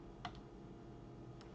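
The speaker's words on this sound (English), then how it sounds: "Let me try typing it." Brief, faint clicks of typing on a computer keyboard: two or three quiet keystrokes over a steady room hum.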